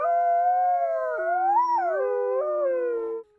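A single wolf gives one long, clear howl that wavers and bends in pitch, loud and close against silence, ending abruptly.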